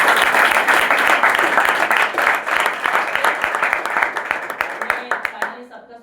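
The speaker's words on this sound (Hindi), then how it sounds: "एक बार जोरदार ताली" Loud, dense applause from an audience at an organization's stage meeting in a hall, steady and full for several seconds before thinning out into scattered claps at the end.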